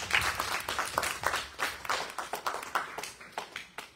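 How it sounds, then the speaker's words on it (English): A church congregation claps for the fathers on Father's Day, a lively burst of close, rhythmic hand claps that thins out toward the end. "Let's give our fathers a big clap of praise."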